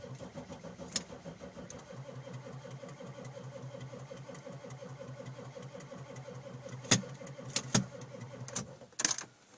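A 1995 Ford F-350 with the Power Stroke diesel engine cranks steadily on a cold start, a continuous rhythmic starter churn running for about nine seconds, with a few brief sharper clunks near the end and no catch.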